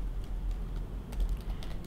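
Quiet, quick keystrokes as code is typed on a computer keyboard: a soft, uneven patter of light clicks over a low background hum.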